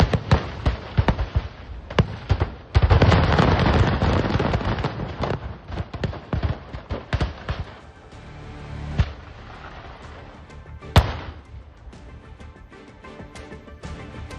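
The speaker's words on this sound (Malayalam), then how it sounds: "ഒരു വലിയ ഉഗ്രസ്ഫോടനവും അതിനോട് തുടർ സ്ഫോടനങ്ങളുടെയും ആ ശബ്ദങ്ങളാണ് നമുക്ക് കേൾക്കാൻ കഴിയുന്നത്" A fireworks stockpile going off in a series of explosions: a rapid, dense run of crackling bangs and booms, loudest in the first few seconds, then thinning into scattered separate blasts with one sharp late crack.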